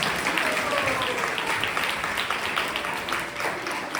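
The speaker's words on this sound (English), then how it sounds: "Please give them a big round of applause." A crowd applauds, a dense steady wash of many hands clapping that fills the whole stretch and fades slightly toward the end.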